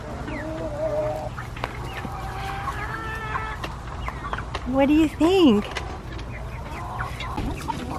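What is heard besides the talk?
chickens clucking in backyard flock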